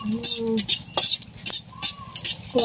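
Dried red chillies are stirred as they fry crisp in a pan. A utensil clinks and scrapes against the metal in quick, uneven strokes, with a faint voice briefly mixed in.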